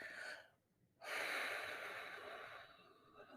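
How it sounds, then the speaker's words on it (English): A deep breath is blown out through the mouth during belly breathing in a meditation: a close breathy inhale, a brief pause, then a long airy exhale that slowly fades. "you hear that blowing sound? That's the sound that lets you know that the air is coming from your belly out through your mouth"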